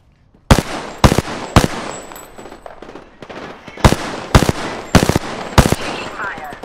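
Gunfire in a shooter video game: sharp, loud shots cracking out singly and in quick pairs, about eight in all, spaced irregularly, with faint talk underneath between bursts.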